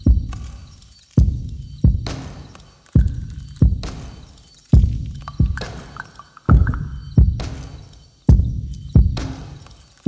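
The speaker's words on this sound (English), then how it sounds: "on top of that is the beat, which is made from suitcases which Japanese Americans brought with them to the World War II incarceration camps" A steady percussion groove built from struck suitcases, like the ones Japanese Americans carried to World War II incarceration camps: about a dozen sharp, hollow thumps in an even rhythm, each followed by a short decay.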